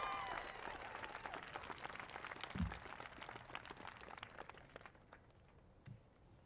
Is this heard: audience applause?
yes